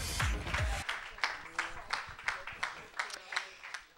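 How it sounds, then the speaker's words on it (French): Scattered applause from a small audience at a Street Fighter III: 3rd Strike tournament grand final, irregular claps following a voice at close range. "Vous pouvez les applaudir parce qu'ils n'ont pas démérité."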